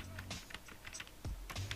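Someone types on a computer keyboard, producing quiet, irregular clicks and taps in a few short bursts against a soft background.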